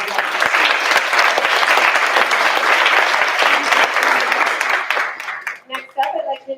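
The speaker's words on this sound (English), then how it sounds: "One round of applause." Warm applause from a school board meeting audience, dense steady clapping by a crowd that thins out toward the end as a voice begins to speak.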